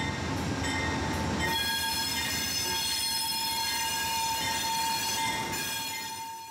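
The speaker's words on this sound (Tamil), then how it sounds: "இதுதான் நம்ம போகிற ட்ரெயின் அப்படின்னு நினைக்கிறேன்." An Amtrak Texas Eagle passenger train sits at a station, its loud rumbling wheels and a high sustained metallic squeal ringing steadily, fading slightly toward the end.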